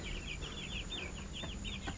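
A farm chicken clucks in a quick run of soft, chattering calls, fairly quiet amid low background noise, with no voices.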